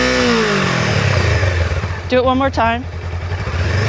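Engine of a 2018 Honda CBR500R motorcycle fitted with a short slip-on exhaust, running steadily at close range under people talking, with brief bursts of rising revs.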